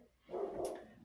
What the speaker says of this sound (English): I got my dogs bark at everything and anything, I swear.